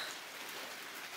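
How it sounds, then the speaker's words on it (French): Steady rain falling on a roof during building work, a dense, even hiss of drops that stays constant and fairly close throughout, with no voices. "Il pleut."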